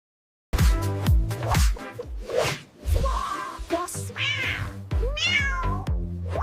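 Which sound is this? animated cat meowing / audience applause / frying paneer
animated cat meowing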